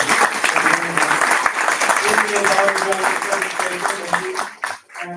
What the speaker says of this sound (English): please a round of applause for our workshop.